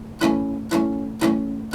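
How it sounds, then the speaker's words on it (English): Palm-muted acoustic guitar strumming of a song verse, four evenly spaced muted chord strokes, each a short percussive chunk with a dampened ring, played close with no talking. "place your palm over the strings and it mutes it a little bit."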